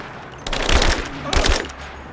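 Two short bursts of automatic gunfire in the Rise of the Tomb Raider video game, loud and close with a brief gap between them.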